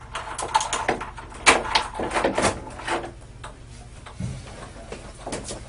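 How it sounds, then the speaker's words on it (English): Door-opening sound effect with a cluster of close clicks, knocks and a creak, loudest in the first few seconds and fading to quieter taps. "The sound of the door opening would have been a pleasant relief from the monotonous cycle of Rodarte's own thoughts"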